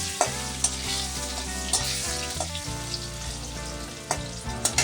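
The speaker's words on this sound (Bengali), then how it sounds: "আমি কিন্তু আলুগুলিকে ভেজে নিচ্ছি" Potato pieces fry with a little salt in oil in a pan for a Katla fish red curry, a steady sizzle running throughout with sharp spatula scrapes and clinks as they are stirred; no talking.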